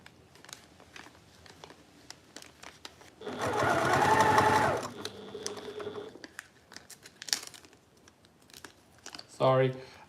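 A sewing machine runs a half-inch seam on a fabric project bag in one steady burst of motor hum and needle clatter lasting about a second and a half, with quiet handling rustles and a short crinkle around it.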